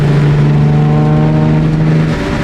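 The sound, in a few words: turbocharged Nissan 350z engine downshifting and cruising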